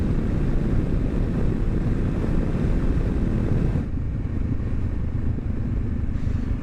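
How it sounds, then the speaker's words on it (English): Loud, steady wind roar buffets the microphone while riding a Honda CB500F motorcycle on a gray, overcast day, with the engine droning underneath. The rush eases slightly partway through but continues throughout, with no talking. "The wind is also horrendous"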